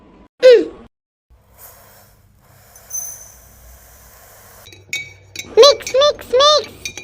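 Cartoon stirring of juice in a glass: a few light clinks and scrapes with quiet gaps, set between animated voices talking.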